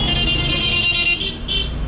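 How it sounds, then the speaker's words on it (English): Car horns honk in busy street traffic in Afghanistan, with a steady, tonal horn blaring close by over the rumble of engines. A second short toot sounds near the end. "now they're honking"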